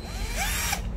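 A Black & Decker 10.8V cordless drill runs steadily at close range, giving a continuous whir with a faint rising mechanical whine and no talking.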